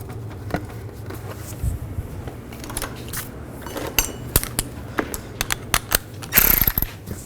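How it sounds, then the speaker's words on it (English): Ratchet and metal tool clicks tighten valve cover bolts on the passenger side of a 2005-2015 Nissan Xterra engine, scattered close ticks and short ratcheting bursts over a low hum, louder near the end. "Tighten the bolt down. And tighten the other one down as well."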